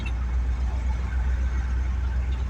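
An old four-speed manual car driving, its engine a steady low rumble with broadband road noise heard from close inside the cabin, continuous and even throughout without talk.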